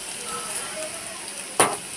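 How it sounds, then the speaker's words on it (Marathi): Mustard seeds dropped into hot oil crackle and sizzle in a steady faint fizz, with a sharp louder burst of spattering near the end. "आता आपल्याला टाकायची आहे राई."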